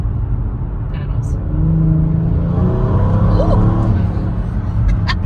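A 2018 Kia Stinger with a Lap3 Performance tune accelerates hard from inside the cabin, its engine note climbing steadily through the gears with a loud, continuous drone, and people's voices come through over it.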